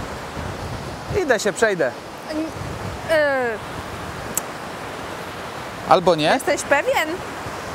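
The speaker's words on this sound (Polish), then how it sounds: "No, rzeka dzisiaj wzburzona." Rough, churning river water in Georgia rushes with a steady broadband roar that runs beneath several bursts of people talking nearby.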